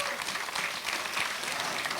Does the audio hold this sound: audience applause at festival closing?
yes